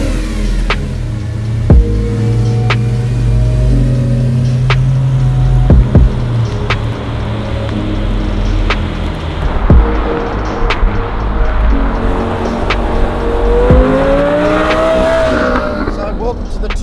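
A 2005 Lamborghini Gallardo driving on the road, loud engine revving through the gears with pitch climbing and dropping between shifts, heard from close by, with talking over parts of it.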